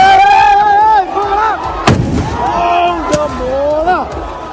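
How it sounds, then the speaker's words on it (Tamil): Firecrackers burst in the stands at a local football match in Kerala, with sharp loud bangs around two and three seconds cutting through a clamor of screaming, shouting spectators as the crowd flees. "பார்வையாளர் அரங்கில் பட்டாசுகள் வெடித்ததால் அங்கிருந்தவர்கள் அலறியடித்து ஓடிய காட்சிகள் தான் இவை"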